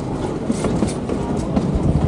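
A 3-foot narrow gauge train on the Georgetown Loop Railroad runs through mountain curves and steep grades, heard from on board as a continuous loud rumble with rhythmic wheel clatter and rail noise.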